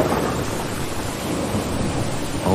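Thunder rumbles low and heavy in a steady storm wash with rain, ending with a brighter crack near the end.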